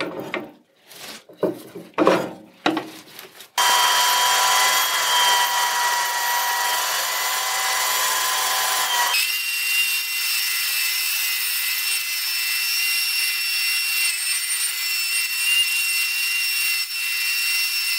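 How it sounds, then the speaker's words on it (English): A bandsaw cuts wooden parts for a Libreflip book scanner. Rough rasping bursts come first, then a long, steady, loud whine of the blade running through the wood, which holds for the rest of the stretch with no talk. "So let's do the remaining bandsaw cuts."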